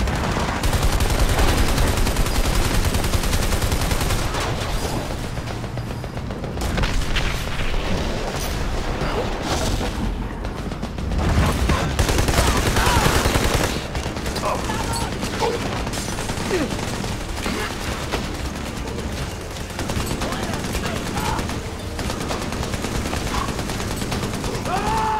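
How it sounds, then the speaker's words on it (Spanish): Dense, continuous gunfire and booming explosions from the video game Army of Two: The Devil's Cartel, with machine-gun bursts layered over a loud, unbroken battle din throughout. "Ametralladora."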